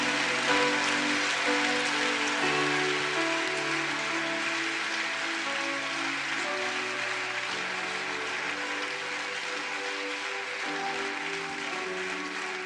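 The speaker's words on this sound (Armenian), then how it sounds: "Բարձր ծափարեք Տիրոջը։" A church congregation claps loudly and continuously, a dense, even wash of many hands like heavy rain, with faint music tones underneath and no break in the applause.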